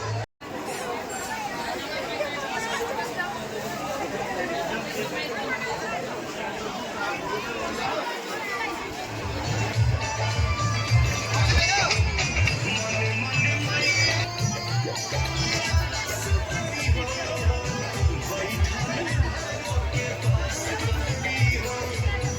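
Crowd of worshippers packed into the Uchhaith Bhagwati temple courtyard during Durga Puja, a dense babble of many voices with a rhythmic low pulse joining partway through.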